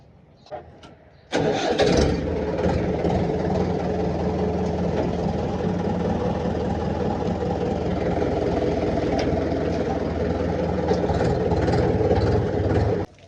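A tractor engine turns over and starts at about one second, then runs steadily and loudly with a deep rumbling chug until the end.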